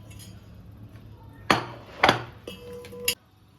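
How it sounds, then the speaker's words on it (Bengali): Packaged rice flour sifted through a kitchen sieve, with three or four metallic knocks and clinks of the sieve being tapped, spaced irregularly over a quiet room background. "তাও আমি ছাঁকনি দিয়ে এটাকে চেলে নেব"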